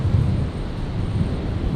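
Low rumbling drone of a Dash 8 turboprop taxiing out for departure toward runway 01 right at Brisbane International Airport, a steady heavy engine hum with some wind buffeting, heard from a distance.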